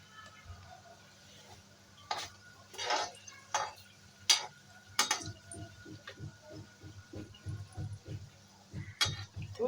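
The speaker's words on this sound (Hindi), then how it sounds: "हल्का हल्का घी हम पूरे पकौड़ी पर डाल देंगे, जिससे जो नहीं भी डूबी है उसके ऊपर भी घी पड़ेगा" Buckwheat (kuttu) pakoras fry in ghee in a pan, with a steady low sizzle under scattered clinks and scrapes of a utensil against the pan, some loud and sharp, close by.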